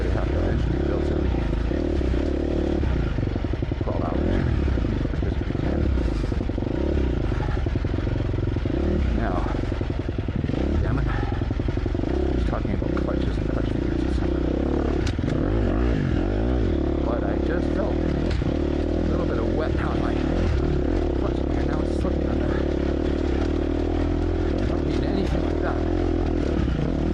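A 250cc dirt bike engine revving high and constantly on rough terrain during a trail ride, a loud continuous droning buzz throughout, with a rider talking over it.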